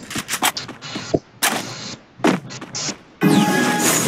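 Gunfire in the mobile game Free Fire: several sharp synthetic shots in quick bursts, loud and close, separated by short gaps, ending in a longer sustained blast of noise.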